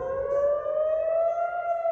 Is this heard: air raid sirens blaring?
yes